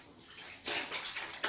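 Cold water splashes and sloshes in a tub as a zentai suit is washed by hand, with soft swishing bursts that grow louder toward the end and no talk.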